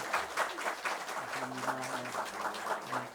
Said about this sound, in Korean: 박수로 한번 축복하겠습니다.